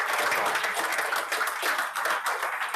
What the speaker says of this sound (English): we want to give a round of applause to Mr.